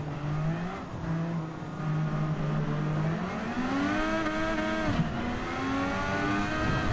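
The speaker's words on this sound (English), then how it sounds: "listen to the sound of the F1 race car" An F1 race car engine in the video game Gran Turismo 7 roars steadily and loudly, its pitch dipping and then sweeping upward as the revs climb, with no talk over it.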